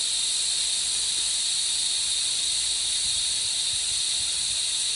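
Air hisses steadily out of the air ride suspension on a 2003 Duramax C4500 rollback truck, a loud, close, continuous high rush that holds without a break.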